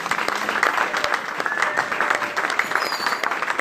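Church congregation clapping and cheering during a sermon, a dense, loud, sustained roar of applause with faint voices mixed in.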